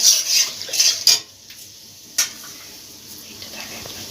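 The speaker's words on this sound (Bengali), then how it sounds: "তিনটে এলাচ ছোটো এলাচ আর একটা দারচিনি স্টিক খানিক্ষণ ভেজে নেব" Three green cardamom pods and a cinnamon stick fry briefly in a pan of oil for a Bengali chicken curry, with soft sizzling and a few metallic spoon clinks and stirring scrapes near the start, then a quieter hiss with one more clink.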